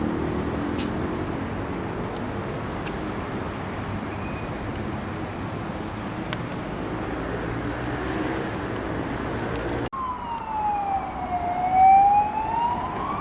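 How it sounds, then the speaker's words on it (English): An emergency vehicle siren wails on a riverside boardwalk in Queensland, rising and falling in a clear sweeping tone above steady outdoor city noise in the last few seconds. "it doesn't matter where you are in the world, you always get sirens"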